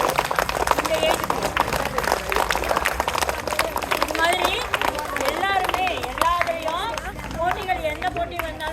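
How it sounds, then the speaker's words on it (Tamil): Children clap their hands at a school karate award ceremony, with a steady run of close, crisp claps throughout. An adult voice speaks over the clapping. "கைத்தட்டுங்க. நன்யா நல்லா கைத்தட்டு."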